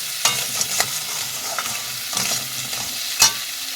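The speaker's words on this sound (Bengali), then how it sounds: "ভালো করে নাড়িয়ে চাড়িয়ে ভাজতে হবে একটু" Crab frying in a pan with turmeric, stirred with a spoon: a steady sizzle broken by sharp scraping clicks of the spoon against the pan at irregular intervals, close and fairly loud, with no talking.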